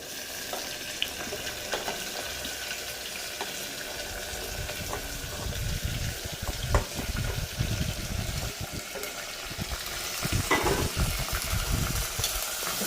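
Onion, tomato, potato and cluster beans are stirred together in a hot pan for vegetable khichdi, making a soft sizzle with repeated scraping and knocking from the spoon that grows busier partway through.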